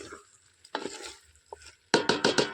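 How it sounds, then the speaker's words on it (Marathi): A spoon stirs through thick mutton curry in a pot, producing a few wet scraping strokes, the last ones in a quick, louder cluster. "थोडा ढवळून घेतो"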